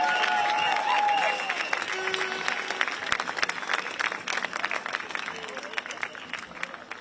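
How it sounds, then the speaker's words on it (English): Outdoor crowd at an evening street protest during a Trump state visit to the UK clapping and cheering, the applause swelling into rapid scattered claps with a whistle early on and occasional shouts. "So give yourselves a big round of applause for turning up and showing solidarity this evening."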